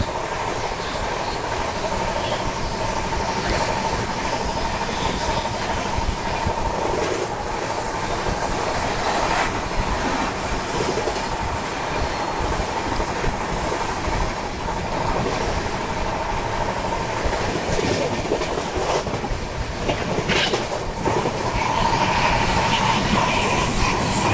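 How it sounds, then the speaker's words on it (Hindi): Steady rumble of a Rajdhani Express train running on rails at about 130 km/h, with a continuous broadband roar and faint rhythmic clatter throughout, no voices. "गाड़ी अपनी फ्लैट 130 पे भाग रही है।"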